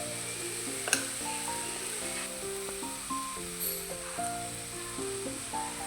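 Chopped curry leaves, coriander and mint are stirred in a frying pan for beef ada, and a soft continuous sizzle runs beneath louder background music, with one sharp knock near the start.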